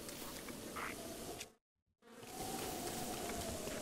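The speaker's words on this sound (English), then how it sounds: "Are those some bees? Yes, they are." Swarming bees in The Legend of Zelda: Breath of the Wild give a steady, close insect buzz. It cuts to silence for about half a second, then resumes.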